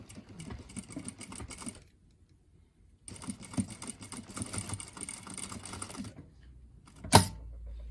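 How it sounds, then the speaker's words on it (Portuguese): A sewing machine stitches a zipper using a quarter-inch presser foot, running in two close bursts of steady rapid whirring separated by a pause, followed by a sharp clunk. "Agora é só costurar, né, com o calcadorzinho de 1/4."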